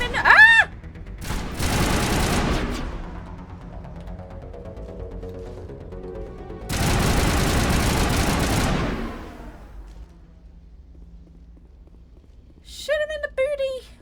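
Rapid gunfire bursts from the Mass Effect video game, two long dense volleys of shots with quieter stretches between them and a brief voice near the end.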